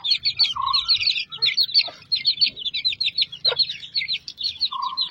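Native country chickens (nati koli) keep up a busy chatter of clucks and chirps close by, with a few louder calls standing out over low background noise.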